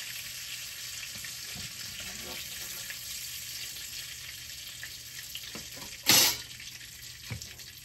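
Onion and fenugreek sauté in oil left from frying shrimp, a constant close hiss and crackle with one sharp sizzling burst partway through.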